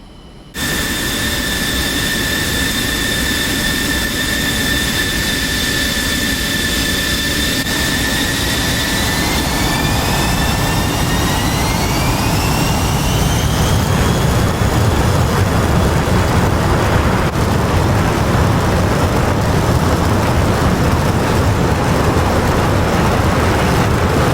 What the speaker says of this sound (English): MiG-29, one of the best planes ever made, really, really good plane